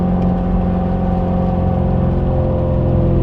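A race car converted into a daily driver pulls away for a short spin, its engine giving a steady, loud, close droning hum with a low rumble throughout, no one talking.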